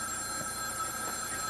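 A telephone rings continuously, steady and fairly loud, with a bright metallic bell tone running through the whole stretch and no voices over it.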